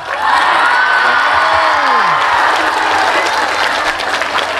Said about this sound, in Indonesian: Berikan tepuk tangan, boleh.